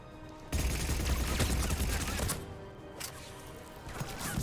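Rapid bursts of gunfire from Mass Effect 3 Legendary Edition, with dense, loud volleys and sharp impact crashes running almost continuously, then a brief dip before more shots.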